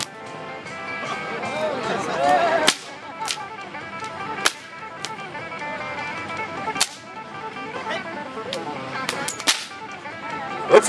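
Sharp whip cracks from a live stage whip-cracking act snap out at irregular intervals, several loud isolated bursts over a continuous murmur of crowd noise and voices.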